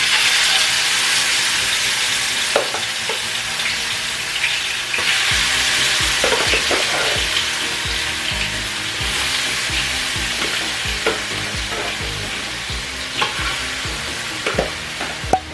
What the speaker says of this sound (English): now we just let that fry till it gets a little brown